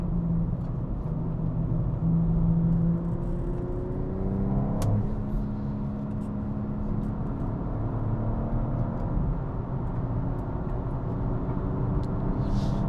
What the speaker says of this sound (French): Et la voiture relance vraiment fort.